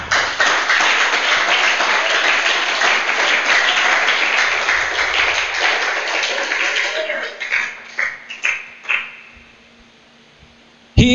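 A church congregation applauds loudly and steadily during a sermon, then the clapping thins to a few scattered claps and stops, with a voice speaking over it.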